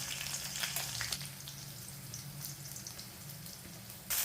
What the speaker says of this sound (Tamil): வெங்காயம் கருவேப்பிலை எல்லாம் போட்டாச்சு கறி வடகம் போட்டு தாளிக்கிறோம்